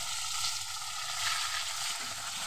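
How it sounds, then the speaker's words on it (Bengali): Fish head frying in hot oil gives a steady, dense sizzle that stays close and even throughout, with no voices over it. "তো চলো এবার মাছের মাথাটা আমি ভেজে নিই।"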